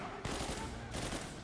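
Enemies fire at the player in Uncharted 4, a burst of fast gunfire heard faintly in the distance as a steady crackling barrage.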